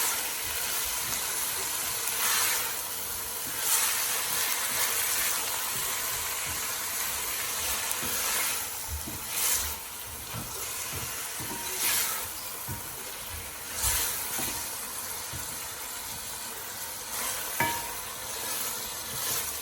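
Spices sizzle in a pan for a lamb and chana dal dish while a spoon stirs them in repeated scraping strokes, close and steady, with a constant frying hiss underneath.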